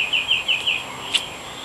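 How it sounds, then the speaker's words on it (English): Birds chirp outdoors in a quick series of bright, repeated tweets at moderate distance, followed by a single sharper call, with no one talking. "Birds are cheering me on."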